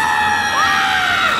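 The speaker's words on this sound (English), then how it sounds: "And now for comedically over-the-top scream in 3," A woman's shrill, sustained, over-the-top scream from a film, loud and continuous, with the pitch wavering and sliding slightly, over a dense background roar.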